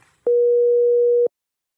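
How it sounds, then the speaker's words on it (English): A phone line gives a single steady electronic ring tone lasting about a second, clear and loud, followed by silence as the call goes unanswered. "After ringing once with no answer, Luka picked up."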